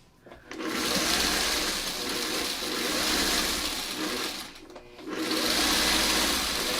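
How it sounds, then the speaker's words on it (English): Sewing machine stitching a quilt block, a steady close motor whir running in two long stretches with a brief pause between, no talking over it. "Now we're going to sew along this part here to complete this block."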